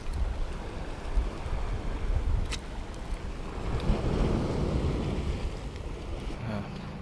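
Strong ocean waves surge and wash against the shore during shore fishing, a steady broadband roar with gusting wind buffeting the microphone, continuous and fairly loud with no voices.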